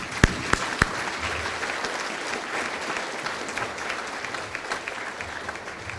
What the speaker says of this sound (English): If you could all give them a big round of applause for being on the board, please.